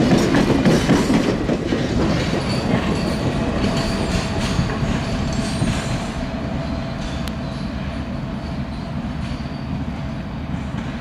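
Reading and Northern locomotive 425 rumbles past in the Anthracite Region, a loud, steady roar of engine and rolling cars with rail clatter and a faint squeal, continuous throughout.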